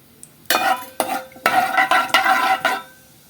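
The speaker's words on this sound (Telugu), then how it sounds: "ఇదిగోండి కొంచెం జీలకర్ర, ఒక్క చిటికెడు మెంతులు, కొంచెం వేగనిద్దాం వీటిని" Cumin seeds and a pinch of fenugreek fry in hot oil in a pan, with a run of sharp scraping stirs and bursts of sizzle in an uneven rhythm, heard up close.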